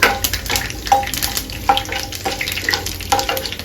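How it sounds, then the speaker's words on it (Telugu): Urad dal fries in hot oil as a tempering, crackling and sizzling up close. Irregular stirring clinks and pops come through. "మినపప్పు వేసి దోరగా వేయించుకోవాలి"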